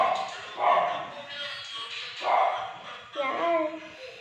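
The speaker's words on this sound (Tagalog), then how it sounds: "iingay naman yung aso dyan sa kapitbahay" A neighbour's dog barks and yips in several bursts spaced about a second apart, fairly close by, mixed with some background voices.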